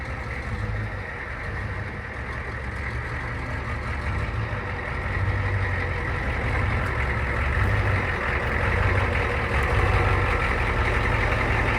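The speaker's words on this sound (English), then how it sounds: "I'm just gonna let it idle a little bit." A homemade vehicle's glow-plug diesel engine idling just after starting, a loud continuous low rumble with steady rhythmic throbbing, close up, with no talk.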